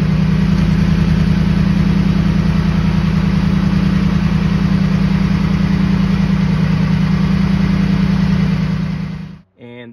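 A 2013 Ford F150 5.0L Coyote V8 idles with a deep, steady exhaust rumble from a Flowmaster 50 series exhaust, close and loud, cutting off abruptly near the end.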